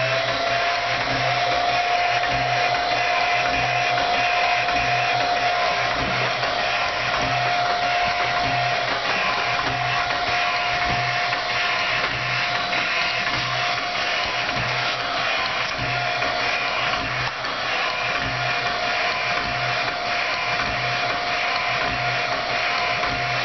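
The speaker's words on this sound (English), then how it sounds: "The first step is taking this Marauder back and filling it with air." A hand or electric pump tops off a Marauder air rifle from about 2400 PSI, a steady, loud, continuous whirring drone with a pulsing low rhythm that runs unbroken throughout, with no talking.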